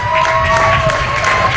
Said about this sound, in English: please give a round of applause for our class of seniors 2021.